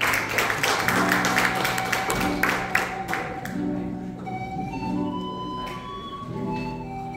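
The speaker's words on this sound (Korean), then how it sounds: "다시 한번 큰 박수 주십시오" An audience claps at a Korean knowledge forum after a poetry reading. The dense clapping fades over the first few seconds while soft tonal music carries on beneath and after it.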